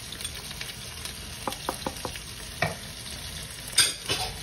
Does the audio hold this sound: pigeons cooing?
no